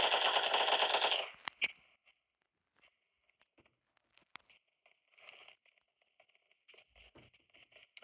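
A new gun firing in PUBG Mobile, a battle royale shooter: a loud sustained automatic burst at the start, then scattered faint, distant pops and short bursts over a quiet background.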